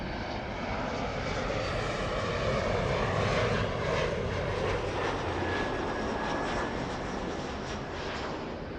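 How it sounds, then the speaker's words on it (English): A specially configured Delta Boeing 757 without winglets, flying a sports charter at LAX, roars past loudly. The broad jet rumble swells and then eases, with a high engine whine sweeping through it. "We have Delta's 8930 to Memphis, a 757."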